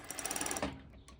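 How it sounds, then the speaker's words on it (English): Cover stitch sewing machine running over folded fabric hem on a short kaftan beach cover-up, a rapid even run of needle strokes for about half a second, then stopping, close and clear. "then I just simply go over and cover stitch it."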